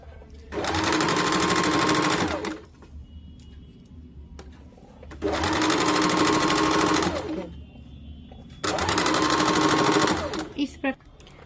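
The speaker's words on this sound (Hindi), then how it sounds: "अब इस प्रकार से 1/2 इंच पे इसको पूरे गोलाई से सिलाई कर देंगे।" A sewing machine stitching a band around the waist of a katori cut blouse at half an inch, running in three steady whirring bursts of about two seconds each with quiet pauses between.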